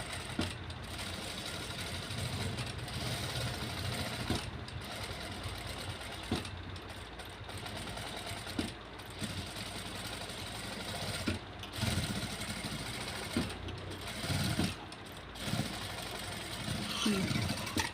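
A sewing machine runs steadily while stitching an embroidered blouse at a tailoring shop. The close, continuous mechanical whirr has brief dips and pauses, with no talking over it.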